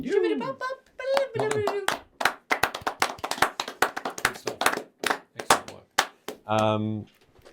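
Several people clap at the close of a tabletop role-playing game episode, bursts of sharp, close hand claps in uneven rhythm, with people talking and a voice at the start.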